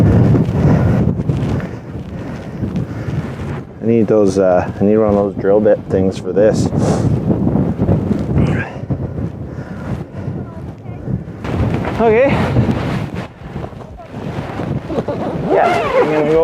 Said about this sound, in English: windy as hell out